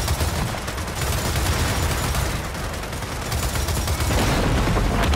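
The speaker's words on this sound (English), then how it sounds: "I can't hear you over the sound of how loud this gun is." Sustained loud gunfire from the Gears of War 4 video game, a dense continuous rattle of rapid shots that barely lets up.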